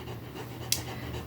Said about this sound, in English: now she's the one panting.